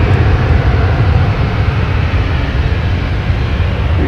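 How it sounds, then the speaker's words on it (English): Steady, loud roar of an American Airlines airliner's jet engines at full takeoff power at Boston Logan Airport, a broad rumbling wash of noise that stays constant throughout with no pauses. "We got American Airlines, that's the sound you heard, taking off, heading to Chicago."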